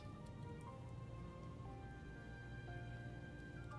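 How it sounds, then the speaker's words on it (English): Soft, steady rain ambience added to the PowerWash Simulator game soundtrack, a continuous faint patter running evenly throughout alongside gentle music tones. "More to just sound like it's raining."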